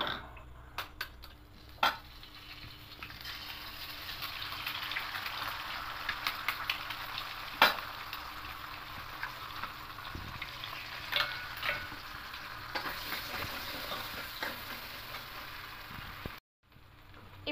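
Two eggs frying in a little oil in a kadai, a steady crackling sizzle broken by sharp clicks and taps of a utensil, close by with no talk.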